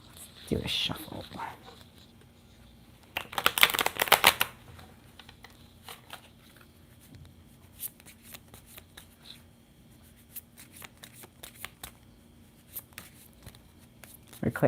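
Tarot cards shuffled by hand in a few brisk riffling bursts, the loudest near the start and a few seconds in, with soft scattered card handling sounds between.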